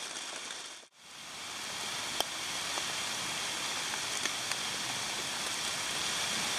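Steady rain falls at a French Creek campsite, a continuous broadband hiss with a few faint drip ticks, brief dip near the start, then even and close throughout with no talking.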